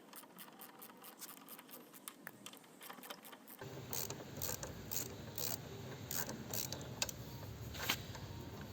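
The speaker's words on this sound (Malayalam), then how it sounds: "ഇനി ഇത് ഊരി കഴിഞ്ഞിട്ട് നമുക്ക് പെയ്യെ കാലിപ്പർ ബോൾട്ട് ഊരാം" A ratchet loosens 12 mm brake caliper bolts during a disc brake pad change on a car with a grooved rotor, making faint, steady clicking that grows slightly fuller partway through, with no talking.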